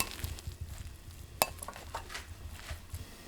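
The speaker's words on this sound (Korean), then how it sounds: "달래장 넣고 쓱쓱 비빌게요." Rice cooked with dried radish greens is stirred and mixed with dallae sauce in a bowl, giving soft close scraping and squishing with a sharp clink of a utensil against the dish.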